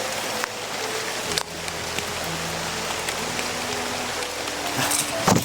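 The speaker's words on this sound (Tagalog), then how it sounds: "Lumakas na yung ulan." Heavy rain pours down in a steady, dense hiss that holds for the whole stretch, with a few faint knocks and bumps breaking through.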